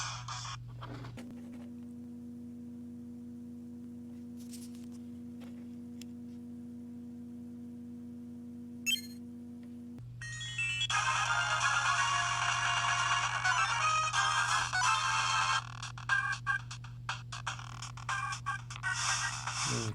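Sonic Advance game audio plays from an Odroid-Go Advance handheld emulator: steady electronic tones and chiptune-style music that gets busier and louder halfway through, heard close without speech.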